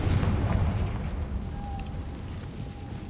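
A Confringo spell blast explodes in Hogwarts Legacy, opening with a loud booming burst that decays into a lingering rumble and fades out over a few seconds, with no talking.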